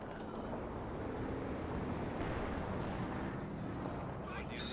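Artillery barrage in a real-time strategy match, a dense continuous rumble of distant shelling and explosions lasting throughout, with a sharp burst right at the end.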